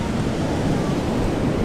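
Sea waves washing onto the shore at Tiruchendur beach, a continuous close, loud rushing wash with wind buffeting the microphone and no speech.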